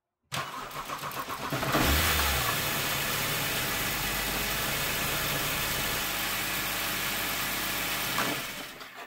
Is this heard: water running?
no